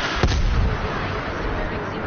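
A sentry turret fires in a video game with a sharp, loud blast that booms and decays briefly, heard up close over a dense, noisy game background.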